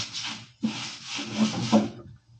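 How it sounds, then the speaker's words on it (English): Hand sanding of an old wooden cupboard with coarse 80 grit sandpaper, a few close, rough rubbing strokes in quick succession, each a scratchy swish, with no talking. "let's see how this 80 grit paper is going to work with this"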